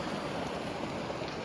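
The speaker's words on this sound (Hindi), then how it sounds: "देखिए दोस्तों, पानी का बहाव कितना तेज़ है।" Fast-flowing Subarnarekha River water near a railway bridge at Muri, a dense, steady rushing roar heard continuously at moderate loudness with no voices.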